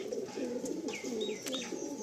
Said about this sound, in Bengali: এগুলো সব গ্রিন আইস কালো পায়রা